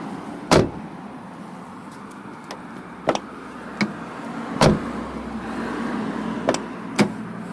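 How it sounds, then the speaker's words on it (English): A Mazda MX-5 Miata car door with Delrin door bushings slams shut several times with sharp, heavy thumps, spaced a second or two apart, over low background noise and a couple of lighter clicks. "Let's see if we can get an idea of the door shut sound."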